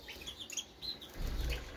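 Goldfinch hybrid birds flutter in a small aviary, with soft, quick wingbeats and faint chirps close by.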